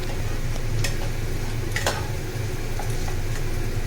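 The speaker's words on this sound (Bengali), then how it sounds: "একটা পেঁয়াজ কুচি দিয়ে দিলাম সেটাও আমি লাল করে ভেজে নেব" Chopped onion fries in hot oil in a pan for a small-fish chorchori, a steady, close sizzle with occasional faint clicks of stirring and no voices.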